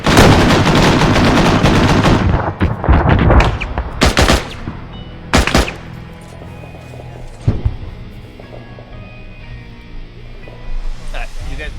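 An APC opens fire during a military video game mission, with loud, rapid bursts of automatic gunfire up close, then scattered sharper shots and quieter intermittent fire as the exchange tapers off.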